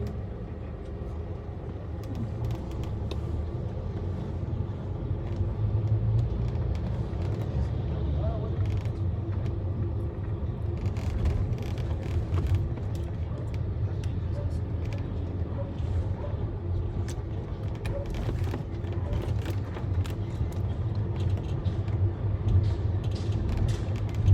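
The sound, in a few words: cars driving behind on the road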